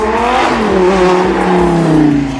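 An Audi R8 V8 breathes through a Capristo exhaust, its engine revving up loud and near, pitch climbing steadily over a couple of seconds with no talk.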